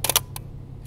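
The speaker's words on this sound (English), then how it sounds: "when I press the shutter down and it does not fire for anywhere near 6 seconds" A Bronica medium-format film camera shutter fires on a foggy evening, a sharp double mechanical clack followed by a shorter click, close and alone against a low steady hum.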